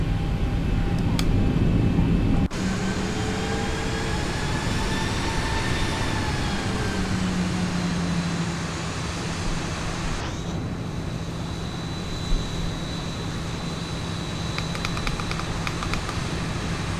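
A Zibo Boeing 737 taxiing in a flight simulator game, with a steady loud jet engine whine and low rumble throughout, a tonal shift early on and a brief click partway through.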